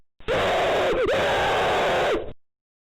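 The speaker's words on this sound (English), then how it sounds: "the woman senses a strange evil thing about to happen and she screams" A woman in a TV show scene, walking outdoors at night, lets out one long, loud, sustained scream lasting about two seconds that wavers briefly in pitch before cutting off.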